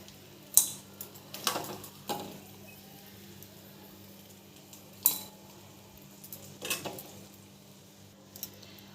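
A metal utensil lifts fried food from the pan into a bowl with several sharp clinks and scrapes, spaced out against a quiet kitchen hum.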